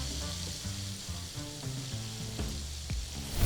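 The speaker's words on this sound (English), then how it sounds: "Okay, so we're gonna cook these shrimp down" Shrimp cooking down in a hot pan for a Creole crab seafood dip, a constant close sizzle and crackle with a low hum beneath and no speech.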